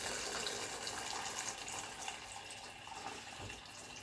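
Cold water runs steadily from a kitchen tap over eggs to cool them, a continuous splashing rush at moderate level with no voices.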